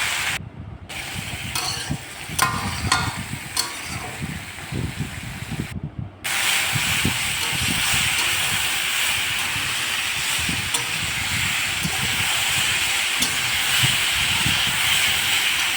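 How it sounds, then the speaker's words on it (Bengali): Mixed vegetables stir-fry in hot oil in a wok for a Bengali ghonto, giving a continuous sizzling hiss with scraping stirs, close and steady throughout. "কড়াতে তেল গরম করে সবজিগুলো একটু নেড়ে নিচ্ছি।"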